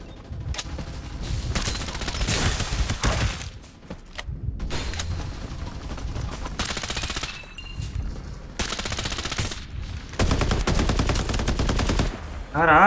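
Rapid bursts of automatic gunfire in a video game crackle in repeated volleys, loud and dense, with a steady game soundscape between them.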